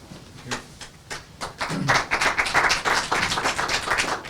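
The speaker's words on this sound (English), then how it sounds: "My goodness, I get applause before I said it." An audience at a climate change press conference in Thunder Bay breaks into applause, starting as a few scattered claps and swelling into a full, steady round of many hands, with a brief low murmur early on.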